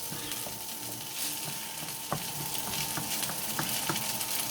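Egg fried rice in British Indian restaurant style sizzles loudly in a hot pan over high heat while being stirred, a steady frying hiss broken by occasional scraping clicks of the utensil.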